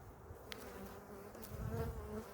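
Honeybees buzz around an open, strong double-stacked four-frame nuc hive, a faint continuous hum with individual bees droning close past.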